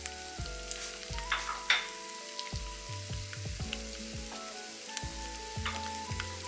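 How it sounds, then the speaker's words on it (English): Kakiage, a battered vegetable fritter, frying in hot oil in a pan, with a steady close sizzle and crackle and light stirring clinks, while background music plays throughout. "Once the oil is hot enough, it's time to fry the kakiyage."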